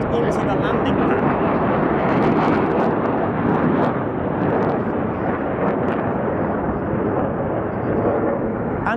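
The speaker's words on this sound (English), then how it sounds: "What a way to get 8 aircraft into the landing pad." Black Eagles aerobatic team aircraft at the Royal International Air Tattoo air show, a broad, sustained jet roar that stays loud throughout, with faint crowd and wind noise and a voice talking over it.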